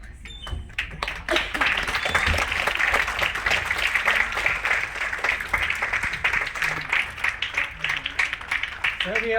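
An audience at an all-India artists' association award function breaks into hearty applause, with rapid overlapping claps continuing under a person talking.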